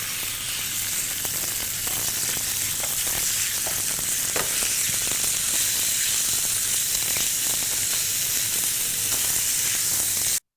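Chicken hitting a hot pan of oil sizzles and fries steadily and loudly throughout, a constant bright hiss with faint stirring clinks, no talking over it.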